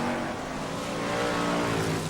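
BriSCA Formula 1 stock cars roar around a Kings Lynn oval in 1995, with loud, continuous engine droning and revving from several cars coming off a turn together, close and with no let-up.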